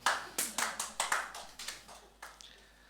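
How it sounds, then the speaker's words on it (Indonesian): A small church congregation at an onsite worship service gives a sparse, uneven burst of hand claps, about a dozen separate claps over three seconds that soon fade to a lone clap or two. "yang siap beri tepuk tangan yang luar biasa buat Tuhan kita"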